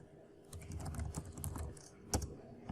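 Close, quiet clatter of keys as a command is typed on a computer keyboard, a quick run of irregular taps with a brief pause and a sharper keystroke near the end.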